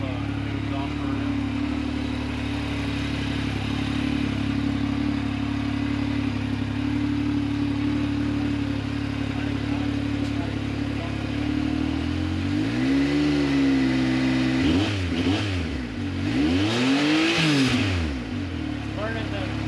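A motorcycle engine fitted with an Alba SBD kit and new exhaust idles with a steady low drone, then revs up and down several times through the exhaust near the end, loud and close.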